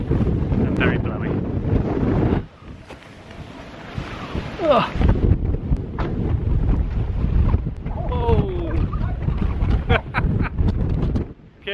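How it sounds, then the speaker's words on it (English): Strong gusting wind buffets the microphone outdoors, roaring loudly, then easing briefly before surging again, with short bursts of voices and clatter mixed in. "I can confirm the wind's not died down."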